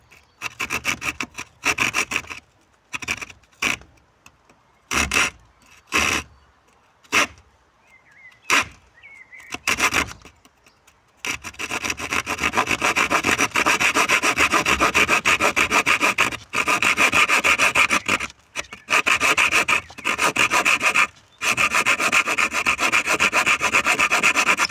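A blade saws and rubs through wood without a chisel, starting as short separate strokes with gaps, then settling into a long, steady run of close rasping back-and-forth cutting.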